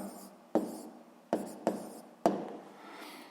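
Pen or pencil writing out an answer to a school physics exercise, four sharp strokes landing in quick succession over a soft scratching texture, close and alone with no talk.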